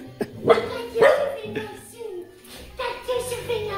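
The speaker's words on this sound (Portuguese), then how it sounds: "Olha o cachorro inútil." A dog barks a few times in sharp bursts, close by, with people talking over and between the barks.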